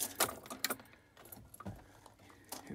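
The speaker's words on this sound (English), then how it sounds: "Keys in the ignition." Keys jangle in the ignition of an International Scout, several quick metallic rattles and clinks up close, then quieter handling sounds.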